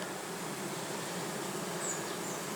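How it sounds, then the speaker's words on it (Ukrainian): A bee buzzes steadily and close by, a continuous droning hum with no other sounds. "Бджола гудить."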